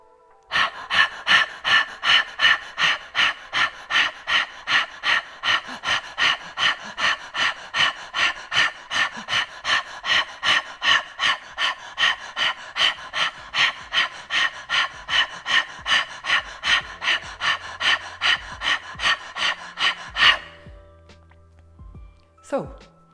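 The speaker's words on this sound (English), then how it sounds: "you're going to start literally panting like a dog" A person pants rapidly like a dog with the tongue out, a breathing exercise for strengthening the lungs: about forty even, loud, close breaths in a steady rhythm for roughly twenty seconds, then stopping abruptly.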